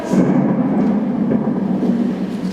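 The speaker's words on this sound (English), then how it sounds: "It's been pouring and thundering." Thunder rumbles through heavy pouring rain on an early morning, a deep, dense roar that holds steady and loud for the whole stretch without any voices.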